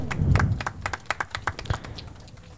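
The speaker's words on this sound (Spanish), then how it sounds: "Fuerte palmas para el teniente alcalde" Scattered handclaps from a small audience at a community gathering, sparse and uneven sharp claps close by after a brief louder rustle at the start.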